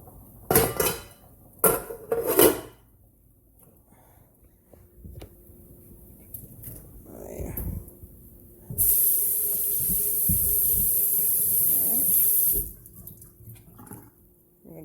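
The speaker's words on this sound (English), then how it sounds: "I'm gonna add plantain to the pot and the banana." Chunks of plantain and banana dropped into a pot for Jamaican-style steamed fish: a few sharp clanks and knocks of pot and utensils, then a steady loud hiss of steam or running water lasting several seconds, with no talking.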